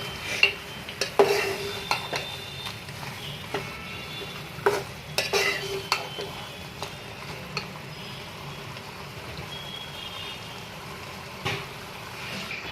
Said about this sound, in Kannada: ಇವಾಗ ಇದನ್ನೆಲ್ಲ ಒಂದು ಮಿಕ್ಸ್ ಕೊಡೋಣ.